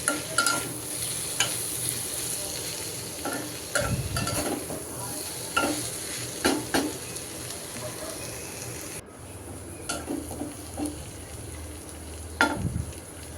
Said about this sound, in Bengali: তো ভাজিটা নেড়ে চেড়ে দিচ্ছি।